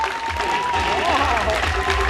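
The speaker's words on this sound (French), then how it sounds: "On l'applaudit très fort." An audience applauds a magician at a French-language show, steady clapping filling the room while voices talk over it.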